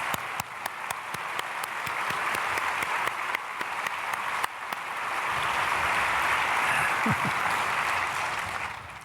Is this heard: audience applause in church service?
yes